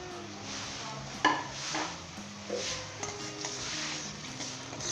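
Garlic and ginger frying in vegetable oil in a pan for an egg karahi, a soft steady sizzle under repeated scrapes and clinks of a spoon stirring against the metal, with no talk.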